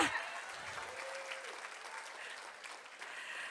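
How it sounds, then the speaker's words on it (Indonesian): Audience applause at an Indonesian marketing-plan presentation, a steady dense patter of many hands clapping throughout, moderately loud and continuous without a clear break. "Tepuk tangan dulu dong."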